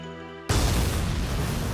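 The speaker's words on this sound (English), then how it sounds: "An explosion has occurred on board." An explosion aboard a ship in the video game Valkyria Chronicles 4 cuts off a steady tone and becomes a loud, sustained rumbling roar that fills the rest of the moment without letting up.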